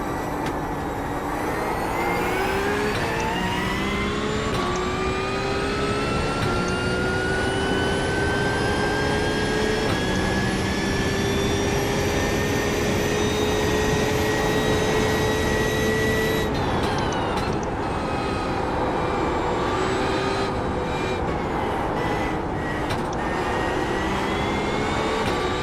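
Race car engine in a sim racing game, a loud sustained whine climbing steadily through the gears with a sharp shift drop and quick revs near the end, heard alone.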